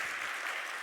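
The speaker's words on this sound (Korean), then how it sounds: "박수." A brief burst of applause, a church congregation at a Sunday service clapping together in a dense, even patter at moderate distance.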